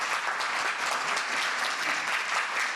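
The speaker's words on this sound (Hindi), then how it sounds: "एक बार जोरदार तालियां" Audience applause for a poet at a Hindi poetry recital, a dense, even burst of clapping from a crowd, sustained and fairly loud for a few seconds with no voices over it.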